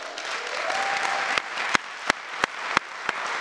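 Conference audience applause at a child welfare event: a continuous bed of clapping, punctuated by several sharp, prominent individual claps that ring out near the mic at a fairly regular pace.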